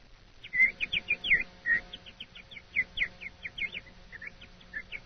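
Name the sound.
person whistling an imitation of a bird call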